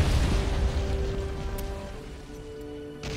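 Heavy artillery shells explode in the World War I strategy game Battle of Empires 1914-1918, with a deep rumbling boom at the start that fades into a crackling, rain-like wash of debris.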